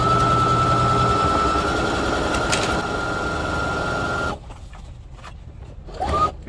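A sewing machine stitches a fabric garden kneeling pad with a plasticky coating, running steadily for about four seconds before stopping, leaving quieter faint handling sounds.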